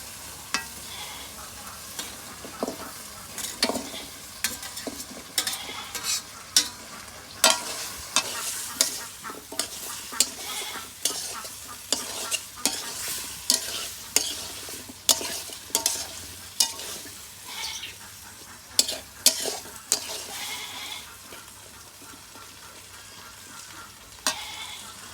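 Water lilies go into a spice masala, frying and being stirred in a village kitchen, with a repeated rhythm of loud spoon scrapes and knocks against the pan over a steady sizzle.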